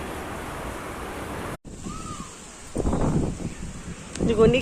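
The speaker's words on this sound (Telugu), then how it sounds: "గాలి అయితే మస్తు వస్తుంది. ఒక గాలి బాగా వస్తుంది." Strong gusting wind roars during a heavy thunderstorm downpour, buffeting the microphone after a brief dropout and swelling louder toward the end, while a person talks over it.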